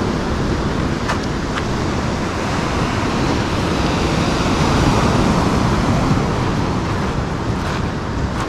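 Sea surf rolling onto the beach at Lazarevskoye near Sochi on a cool day, a loud, steady broadband wash with gusty wind against the microphone, continuous throughout with no talk.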